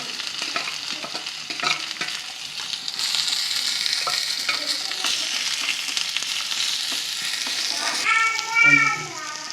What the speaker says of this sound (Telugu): కరివేపాకు వేసి వేగనివ్వాలి